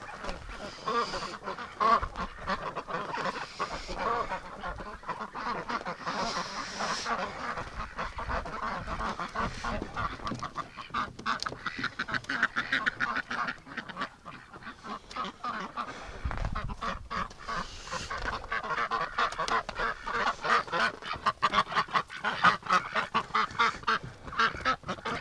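Ducks and geese honk and quack steadily through a wintering flock, a busy overlapping chorus of many birds at close to middle distance with no talk.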